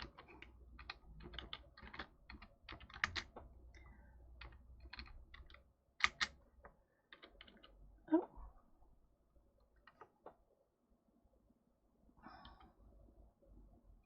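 Irregular tapping on a computer keyboard during a live stream, close but quiet, with scattered keystrokes, a few louder clacks and pauses over steady low background hum; no speech.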